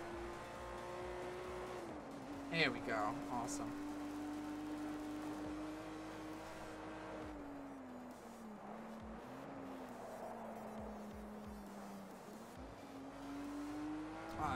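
Race car in Project Cars 2 holding a high-revving engine whine that dips and climbs through gear changes, with brief tire squeal and someone speaking briefly over it.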